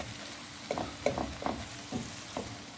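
Garlic and ginger fry in a pan, a soft sizzle broken by several distinct scraping stirs of a spoon at a close, moderate level, with no talking.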